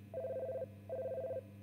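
An electronic telephone rings in a Five Nights at Freddy's fan game, two even warbling bursts with a short gap between them, faint and steady with no voices.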